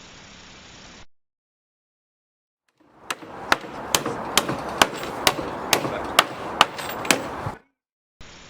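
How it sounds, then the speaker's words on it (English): Nails being hammered into wooden shed door boards, about ten sharp, evenly spaced blows ringing out close and clear over a light background hiss, with no talking. "Drive them in really tight, because that will then draw the underside board, the ledger and the brace,"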